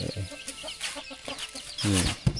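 Chickens in a rural village without electricity cluck in short, repeated bursts nearby, with one louder, drawn-out squawk near the end over a busy outdoor background.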